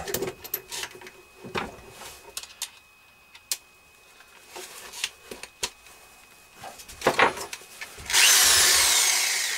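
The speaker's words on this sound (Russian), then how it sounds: "Сейчас мы отверстие проковыряем в ней." Scattered knocks and scrapes of handwork on a hand-carved wooden spatula give way to a power drill boring a hole, a loud steady whir starting near the end.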